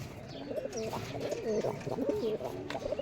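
Giribaz pigeons from Rajshahi coo softly nearby, a run of low, throaty rolling calls repeating over a dull background murmur.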